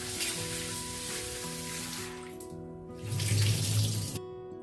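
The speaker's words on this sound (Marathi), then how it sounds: "ही डाळ धुवून घेतली आणि त्यात टोमॅटो टाकूया" Lentils being washed under running tap water in a kitchen before pressure cooking, a steady splashing rush of water into a vessel that grows louder and fuller, then stops abruptly, with a faint background tone and no speech.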